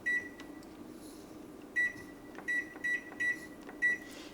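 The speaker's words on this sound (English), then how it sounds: "So I'm gonna set the timer for 30 minutes" Beeps from an oven timer being set while baking homemade bread, a quiet cluster of short electronic tones heard about five times in close succession over a faint room hum.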